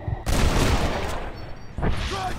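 Rapid bursts of gunfire in the Western shooter Red Dead Redemption, loud and dense for about a second and a half, then a short gap before another burst of shots.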